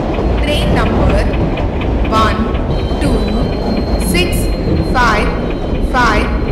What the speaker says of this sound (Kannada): passenger express is arriving at platform number 6